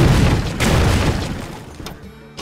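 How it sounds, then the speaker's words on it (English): A booming in-game explosion from the Mad Bomb card in Hearthstone, a loud low rumble opening the clip that rolls on, then fades, with a couple of smaller bursts trailing off. "now play a mad bomb"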